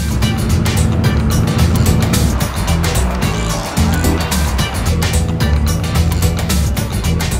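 An open-top convertible car drives through the streets of Johannesburg, a loud continuous engine rumble and road roar with wind noise, steady throughout at close range.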